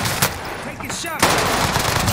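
Rapid automatic gunfire in the video game Warzone, a dense burst of loud shots, with a sharper second burst about midway through the clip.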